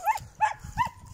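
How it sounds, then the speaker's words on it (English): A small dog gives three short, evenly spaced vocalizations, close by and moderately loud, sounding like soft yips or whines rather than full barks. "Oh, we've got a little dog coming over."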